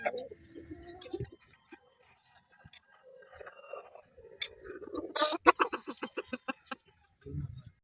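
A Sweater gamefowl rooster at a Gilmore gamefarm giving a run of quick, close clucks that rise into a rapid pulsing burst, with quiet background sounds and a brief low murmur of voices.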